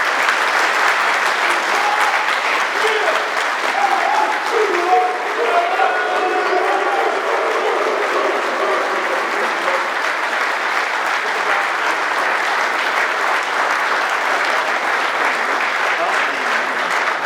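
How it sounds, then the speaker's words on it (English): A Marine Corps ball crowd applauds the evening's guest of honor with sustained, loud, even clapping that fills a large hall for over fifteen seconds, while voices murmur beneath it. "Please join me in a round of applause for tonight's guest of honor"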